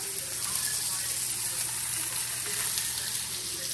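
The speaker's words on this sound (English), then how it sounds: "got the steak sizzling." Loud, steady sizzling of sirloin steak frying in a hot pan, close up, with a constant crackle and a low hum underneath.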